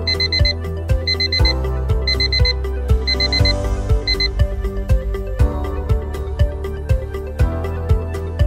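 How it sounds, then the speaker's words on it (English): An alarm clock rings loudly and close, repeating bursts of bright electronic beeps in a steady rhythm over a low pulsing musical tone. "When we switch off the alarm"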